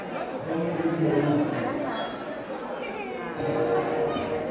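Busy Shiva temple grounds on Mahashivratri fill with an even wash of overlapping voices, nearby speakers rising and falling over the steady background crowd murmur.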